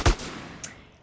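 A single sharp gunshot with a quick decaying echo in GTA San Andreas Definitive Edition gameplay during a riot, loud and close, followed by a faint second crack.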